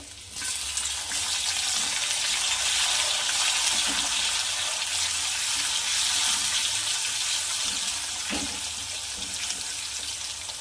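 Tomatoes go into a pan of frying garlic and set off a loud, steady sizzle that hisses on without a break, with a couple of faint knocks from stirring.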